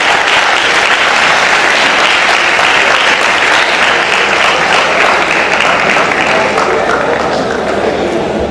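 Loud, sustained applause from a large audience, dense clapping without a break from start to finish, with scattered voices mixed in.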